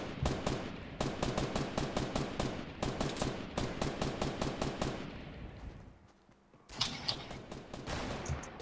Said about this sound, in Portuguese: Tiros e mais tiros.